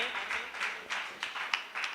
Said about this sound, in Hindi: एक बार जोरदार तालियां बजाएं मुकेश भैया के सम्मान में।